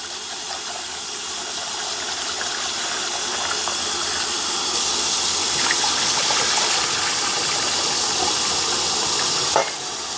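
Rice washing water pours out in a steady rushing gush with hiss, loud and close, running continuously and ending in a small clunk near the finish.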